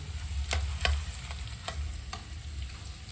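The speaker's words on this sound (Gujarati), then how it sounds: "એને ઘીમાં આપણે તળી નાખવી, ફ્રાય કરી નાખવી" Gond, edible gum, frying in ghee with a close, steady crackling sizzle and several sharp stirring scrapes, no talking.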